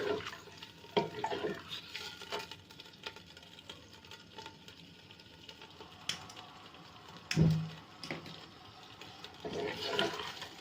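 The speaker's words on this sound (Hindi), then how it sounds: "इस ऑयल में चिकन को अच्छे से भूनेंगे" Chicken being sautéed in hot oil for a Desi murgh nihari, with steady clattering and scraping of stirring in the pan over a low, faint sizzle, louder clanks near the middle and no talk.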